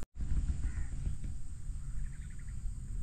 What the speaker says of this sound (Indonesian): Tu dia, burung pun dah balik lah.